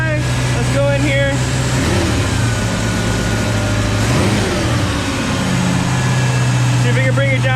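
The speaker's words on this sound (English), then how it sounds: "Engine is running with the new spark plug wires. Idle is a little high." A 1965 Ford Fairlane 500 289 V8 engine with new spark plug wires runs at a steady, slightly high idle, loud and close, with a constant low hum and a small rev partway through.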